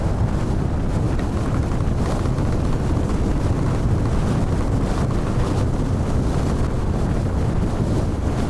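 Steady, loud wind roar buffets the microphone while riding a Triumph Street Scrambler naked motorcycle in fifth gear at around 50, a continuous rumbling rush with no pauses or voices.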